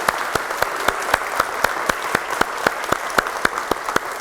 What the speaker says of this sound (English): Let's give a nice round of applause for these scholars.